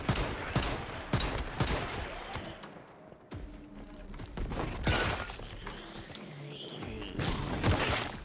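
Gunfire in the shooter game Once Human, with repeated close bursts and single shots cracking through a busy mix of game effects, plus some quieter gaps between volleys.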